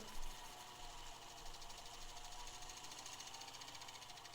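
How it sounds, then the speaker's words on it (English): An old Singer sewing machine winds a bobbin, producing a faint, steady mechanical whir with a fast rapid-fire rattle throughout, quiet and close with no speech. "We're getting closer to filling up with the rim here."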